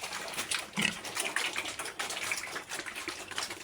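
Ten-day-old piglets grunt softly in a pen after feeding. The low, faint grunts are scattered and mixed with wet splashing and rustling noises, with no speech.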